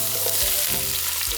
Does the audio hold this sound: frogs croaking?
no